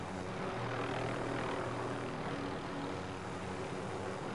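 Steady droning engine of a helicopter in the video game Warzone, a loud, continuous broadband roar with a low tonal hum that holds throughout, with no voices over it.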